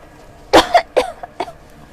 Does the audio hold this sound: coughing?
yes